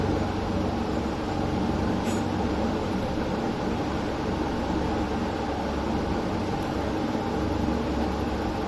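AGARO CR3001 trimmer motor with a damaged armature turning slowly on 3.7 volts, giving a steady, even whirring hum that holds without a break.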